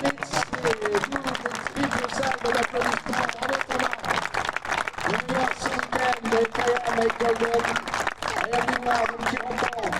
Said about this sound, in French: Allez, on va encore lui offrir nos applaudissements